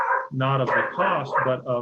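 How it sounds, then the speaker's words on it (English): A pet dog barks and yips in an agitated burst at close range while a person keeps talking over it. "that's my dog losing his mind"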